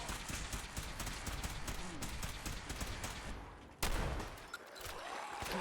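Shotgun blasts and rapid gunfire in Fallout 4 crackle in dense bursts over game ambience, with one sharper loud report near the end, close and busy.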